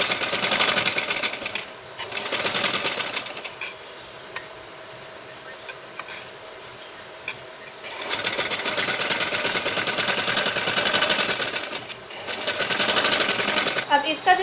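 A sewing machine stitches a blouse down the centre seam, running in rapid mechanical bursts of steady clatter with short pauses between runs, close and fairly loud.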